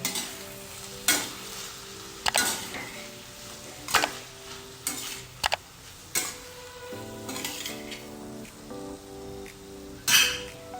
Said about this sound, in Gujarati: હવે એને મિક્સ કરી લેવાનું છે, હળવા હાથે મિક્સ કરી લેવાનું છે.